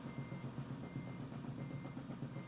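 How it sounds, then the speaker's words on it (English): A truck engine in American Truck Simulator, reversing at 25 mph, drones low and steady with a pulsing rumble, a game-style engine loop, faint and continuous. "Sounds like the engine's gonna blow up."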